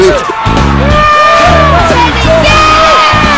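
A cartoon concert crowd roars and cheers at a rock show, with loud layered whoops and yells sustained throughout alongside blaring music tones.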